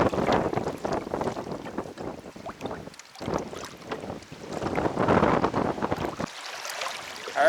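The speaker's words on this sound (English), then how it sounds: "the wind picked up here on Burnt Root Lake" Strong gusty wind buffets the microphone on Burnt Root Lake in Algonquin Park during a canoe trip, loud surging blasts that drop out briefly in a couple of lulls, with water sounds beneath.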